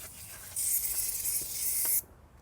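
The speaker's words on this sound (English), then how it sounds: "I'll spray some engine cleaner." An aerosol can of engine cleaner sprays onto a Toyota Sienna engine during an AC compressor replacement, one close, steady hiss of about a second and a half that stops abruptly, with no talking.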